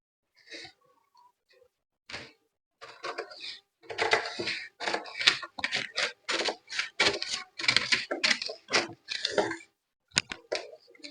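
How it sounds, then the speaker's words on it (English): Scissors cut out a girl's bodice pattern: a rapid series of sharp snipping and crunching sounds, close and fairly loud, coming in uneven bursts with short pauses between cuts. "So I'm going to cut this out."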